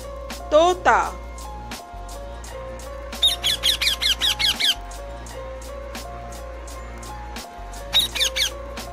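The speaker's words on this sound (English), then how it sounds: "Parrot, tota." A parrot calls in rapid bursts of shrill, squeaky squawks, a short burst first and then a longer rattling series, loud and near.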